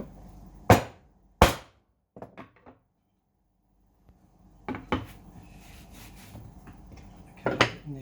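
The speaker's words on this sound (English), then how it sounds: "Now the standard mallet lump hammer treatment." A wooden mallet and a lump hammer striking a glued-up teak blank made of six pieces: two sharp, separate knocks, then a quick run of lighter taps, and after a pause a few more scattered hits with some clatter.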